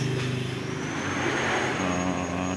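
A rough-running Mitsubishi T120SS car engine idles close by with a steady, uneven mechanical drone and a slight rattle, continuous and fairly loud throughout, with no talk.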